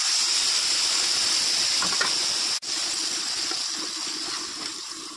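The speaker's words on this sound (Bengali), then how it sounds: "এবার ডালটা ঢেলে দেবো।" Biuli dal poured into a hot pan of curry leaves, bay leaves and dried chillies sets off a loud, steady hiss and sizzle that runs throughout, broken by one brief dropout midway.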